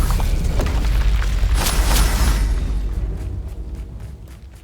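A fire spell blast in Hogwarts Legacy: a heavy, loud boom with crackling bursts that rolls on, then fades over several seconds.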